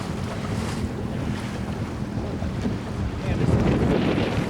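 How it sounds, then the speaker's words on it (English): Large waves on Lake Michigan rush against a boat while strong wind buffets the microphone, a loud, broad roar that swells toward the end. "Look at these waves."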